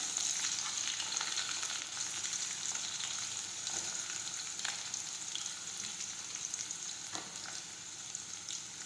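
Chopped onions sizzling and frying in a pan as lentil dal is cooked, a steady crackling hiss with occasional louder pops and stirring scrapes, close but soft, no talking.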